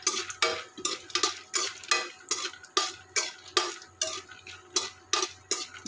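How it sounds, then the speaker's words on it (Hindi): Peanuts frying in desi ghee in a kadhai, stirred with quick regular scrapes and rattles of the nuts against the metal over a light sizzle, close and without talk. "अब इसमें डालते हैं मूंगफली और इसे अच्छे से फ्राई कर लेते हैं।"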